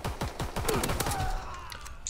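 Rapid pistol fire rattles off in a quick, loud burst of close shots during a video game sniper battle, the cracks overlapping densely before tapering off.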